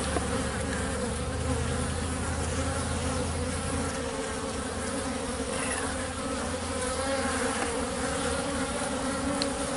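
Bees swarm around a hive in a dense, steady buzz that stays close and loud throughout, with many wings droning at once and no voices.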